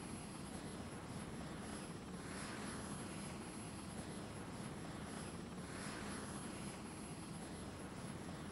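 Helicopter in a Spanish-dubbed Teletubbies episode, a steady droning engine and rotor hum holding at an even level throughout, fairly quiet, with no voices.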